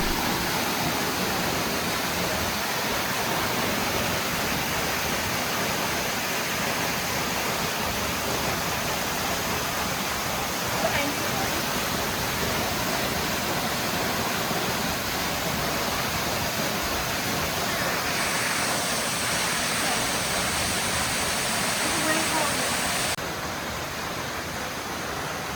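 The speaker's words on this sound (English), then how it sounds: "this is the main waterfall, and you can swim back there underneath it" Main waterfall on a hot-weather hiking trail in Palm Springs, a loud, constant rushing roar of falling water that holds steady for the whole stretch with no voices.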